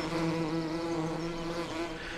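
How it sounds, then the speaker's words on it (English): Swarm of bees buzzing as they leave the hives in the farming game Farming Simulator 17, a steady droning hum that stays close and even throughout. "The bees are all leaving. About to pollinate the fields."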